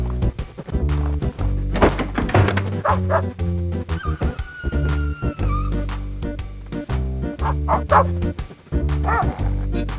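Yappy puppies in the 1996 video game Normality bark and yip repeatedly over a loud, rhythmic game soundtrack, with occasional whimpers and thunks.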